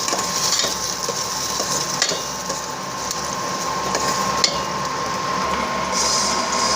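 A spoon scrapes and clatters steadily against a pot of salmon belly miso sinigang over a continuous sizzle, with a few sharper knocks along the way.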